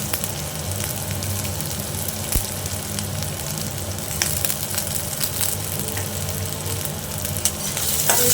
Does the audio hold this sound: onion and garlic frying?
yes